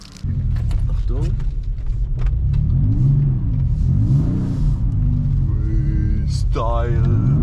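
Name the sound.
BMW M4 engine revving while accelerating in snow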